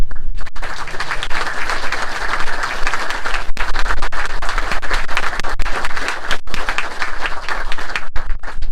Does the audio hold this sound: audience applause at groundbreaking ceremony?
yes